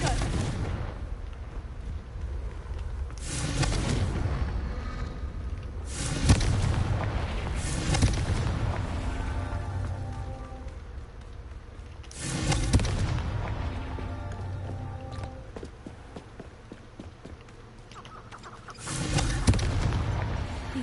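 Confringo blasting-spell explosions in the Hogwarts Legacy video game go off in four heavy booming bursts, each fading into a long rumbling decay, with quiet stretches between them.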